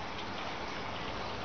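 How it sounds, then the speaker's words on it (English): Heavy rain falling outdoors beside an aquaponics IBC system, a dense, unbroken wash of hissing patter at steady loudness, close and with no voices over it. "That is just rain, rain."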